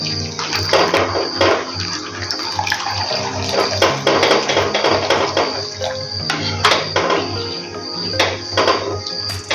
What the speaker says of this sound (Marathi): आता यामध्ये आपण पाणी घालणार आहोत